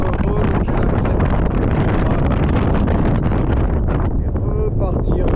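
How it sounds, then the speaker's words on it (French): Strong wind blows steadily across a mountain ridge in the Basque hills, buffeting the microphone with loud, continuous roaring gusts the whole time. "il y a du vent"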